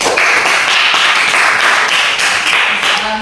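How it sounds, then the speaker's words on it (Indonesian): Classroom applause for a student group, a steady burst of many hands clapping close by for about three seconds, with no voices over it. "berikan aplaus untuk kelompok 3"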